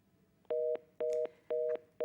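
A telephone line tone sounds after a caller drops off, three evenly spaced beeps each lasting about a quarter second, with a fourth beginning at the end, over a quiet background and no voices.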